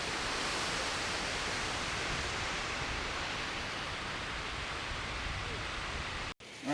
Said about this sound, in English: Under the Newton Bridge, Spring Creek cascades down into the gorge down below